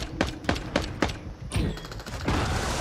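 Rapid bursts of video game gunfire, several sharp close shots in quick succession followed by denser, louder rattling fire.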